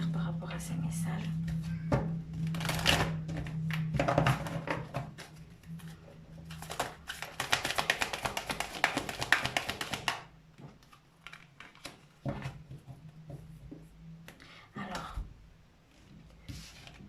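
Tarot cards are shuffled and drawn during a reading, brisk papery riffles and flicks coming in bursts with a longer dense shuffle in the middle, while someone talks softly in French over and between them.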